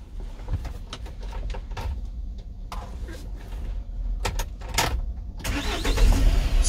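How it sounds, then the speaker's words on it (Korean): During a Korean first-class driving licence test in a manual-clutch car, a series of sharp clicks and control noises is followed by the engine cranking and catching, rising to a louder, steady run near the end. "5초 내에 엔진 시동을 거세요."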